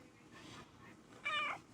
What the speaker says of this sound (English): What a nice cat.